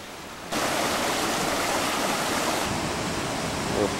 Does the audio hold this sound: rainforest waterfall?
yes